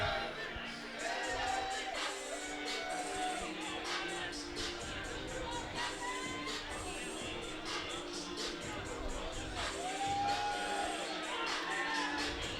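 Crowd noise fills a K Series IV Muay Thai event, a large audience cheering and murmuring steadily throughout, with a commentator talking over it and occasional louder whoops.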